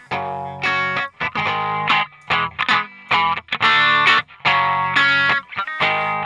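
Distorted electric guitar played through the Airwindows Energy2 plugin in short, snarling chords and bursts, loud and gritty with brief gaps between phrases.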